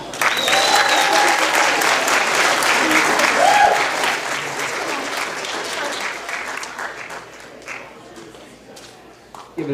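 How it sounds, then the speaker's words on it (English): An audience at a 2018 student multimedia showcase applauds steadily, loud at first and then gradually thinning out, with a voice and a few other sounds over the clapping. "Let's give the students a round of applause."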